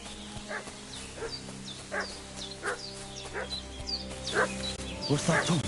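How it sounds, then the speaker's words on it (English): In the video game Kingdom Come: Deliverance II, a dog barks in sharp single yaps spaced about a second apart, at middle distance over a steady humming background, with a voice speaking. "What's that dog making such a fuss about?"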